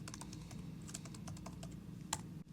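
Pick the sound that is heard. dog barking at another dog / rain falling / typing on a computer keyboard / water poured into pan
typing on a computer keyboard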